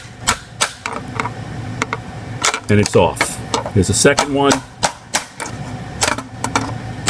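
Hammer driving a chisel to knock integrated circuits off a circuit board, a series of sharp metallic knocks and scraping creaks spaced irregularly, with someone talking over them.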